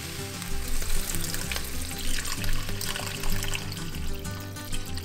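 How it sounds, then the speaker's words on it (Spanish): Water poured into a hot pot of chiles and tomato pieces, hissing and sizzling as it hits, with splashing pulses over a bubbling base, close and fairly quiet. "agregamos agua"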